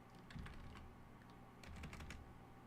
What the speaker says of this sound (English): I don't know why I'm even typing this out, Nathan.